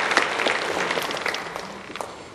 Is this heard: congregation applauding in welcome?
yes